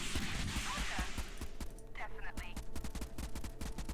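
Weapons fire from an MCV vehicle in the video game Convoy, a dense stream of rapid gunshot bursts running throughout, with someone talking over parts of it.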